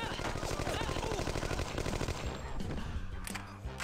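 Tommy gun bursts fire rapidly in the video game No One Lives Forever 2, a dense rattling stream of shots that runs steadily through the first half and then thins into scattered bursts amid game noise.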